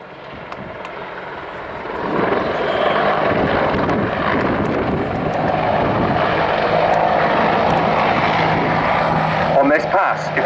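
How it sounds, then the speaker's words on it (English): Attack helicopter gunships manoeuvring at a summer air show at Duxford, a loud continuous rotor and engine roar that swells after a quieter start and holds steady, with a commentator's voice faintly underneath. "the gunships can climb and identify all enemy threats from above"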